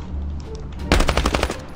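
MP submachine gun in Call of Duty Mobile opens up with a rapid, loud, close burst of automatic fire after a quiet moment of ambient game noise.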